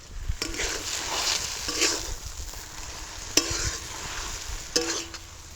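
Ginger and green chilli paste with a pinch of chilli powder is stir-fried in a pan for a tomato potato chop. It gives a steady close sizzle, with a few sharp clinks of the spatula against the pan.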